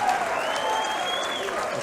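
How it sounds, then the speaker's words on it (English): Wrestling arena crowd at a Refuse To Lose 2017 pay-per-view match cheering and applauding steadily, a dense wash of claps and voices throughout, with a commentator talking over it. "Crowd on their feet once again for the Young Bucks"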